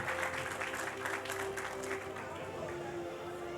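Audience applause fills a hall during an awards ceremony for a tax-agency journalism prize, steady dense clapping from a crowd throughout, with a faint voice underneath.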